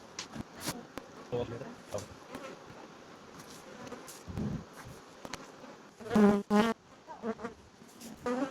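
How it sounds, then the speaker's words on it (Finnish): Honey bees buzz close around a furry microphone windscreen in uneven passes, some loud and droning right at the mic, others fainter, mixed with rustling bumps. "Jostain syystä nämä mehiläiset ihan hirveästi tykkää tästä mikrofonin tuulisuojasta, kun on tämmönen karvanen tässä."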